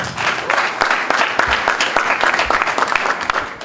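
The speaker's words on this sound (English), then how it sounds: "Friends, let's clap for our parents." A graduation party crowd applauds the parents, loud and close, with dense clapping from many hands that holds steady the whole time.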